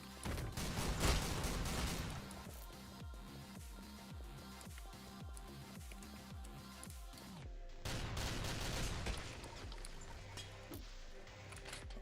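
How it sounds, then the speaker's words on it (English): Rapid machine-gun bursts in the video game OTXO, a dense run of evenly spaced shots up close, pausing briefly before another loud stretch of gunfire, with no talking. "Machine gun works."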